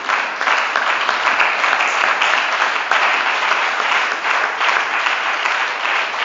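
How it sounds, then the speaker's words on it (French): A church congregation applauds in steady, dense, unbroken clapping that fills the room, loud and close, with no pauses for the whole stretch. "Acclamons la parole de Jésus"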